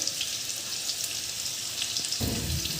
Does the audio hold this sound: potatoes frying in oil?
yes